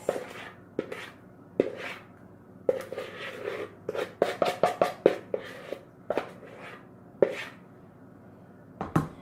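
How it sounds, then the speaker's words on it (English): Banana bread mix is scraped and tipped into a baking tin, giving irregular soft knocks and clicks of a utensil against the tin in a quiet kitchen, some in quick clusters. "we're going to take our banana bread mix and we're going to tip it into the tin like this"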